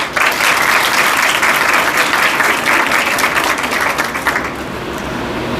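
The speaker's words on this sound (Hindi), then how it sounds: "तो बहुत सारी तालियां इनके लिए भी" Loud, sustained applause from a college audience in Sialkot fills the room, dense clapping holding steady before thinning slightly near the end.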